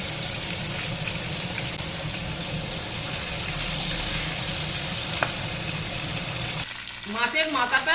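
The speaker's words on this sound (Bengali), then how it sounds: "এবার এইটাকে ভালো করে লাল লাল করে ভেজে নেব।" A fish head sizzles in hot oil in a wok, a soft steady hiss and crackle at moderate distance, then a brief shift near the end as the pan is stirred or handled.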